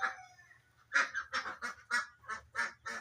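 White Pekin ducks and Khaki Campbell ducks call in a series of about eight nasal honking quacks at a fairly even pace, close by but fairly quiet, over a low background hum.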